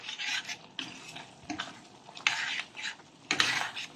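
A spoon scrapes and stirs pork dinuguan in a pot after salt goes in. Rough, rasping swirls come in uneven strokes with brief pauses, close and fairly quiet, and no one speaks.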